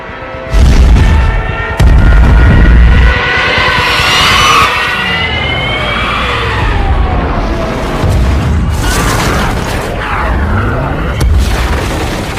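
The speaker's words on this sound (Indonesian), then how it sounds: "pesawat bomber Jerman kembali menyerang mereka, yang membuat kapal evakuasi Inggris terkena tembakan dan perlahan tenggelam" German bombers attack a British evacuation ship in a war film, with heavy booming explosions and bursts of fire, roaring aircraft tones and rumbling blasts repeating loudly across the whole passage.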